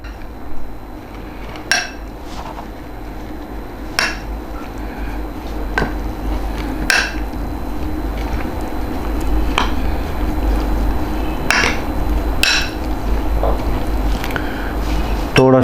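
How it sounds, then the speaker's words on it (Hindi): Red chilli powder and spices being stirred in a bowl for tawa tikka masala boti, with scattered clinks and scrapes of a utensil against the dish over a steady low background hum. "इसको अच्छी तरीके से मिक्स करेंगे।"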